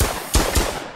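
Rapid gunfire in a Roblox game, with a few loud close bursts of shots crackling over a continuous noisy game background, no talking.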